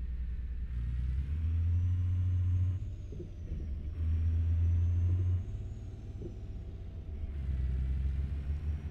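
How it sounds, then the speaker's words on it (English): A dump truck pulls away in American Truck Simulator, its engine rumbling and revving in loud low surges that rise and fall with gear changes, close and steady with no talk. "I love how that dump truck just takes off."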